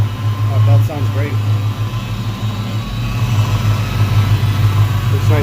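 A 1993 Ford Mustang engine idles with a newly fitted serpentine belt, a steady low rumble close by with a faint whine from the power steering pump, while someone talks over it.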